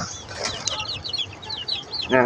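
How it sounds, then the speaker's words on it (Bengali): Small chirping calls from native chicken chicks repeat through the clip over a busy farmyard background, with a brief rustle near the end. "এই যে দেখতে পাচ্ছেন আমার দেশি মুরগির বাচ্চা"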